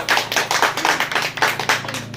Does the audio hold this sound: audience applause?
yes